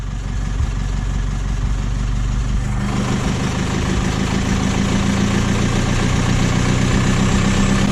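A van's diesel engine idles loudly and steadily close by, then picks up to a slightly higher, busier drone partway through as it runs a regeneration test, with no voices.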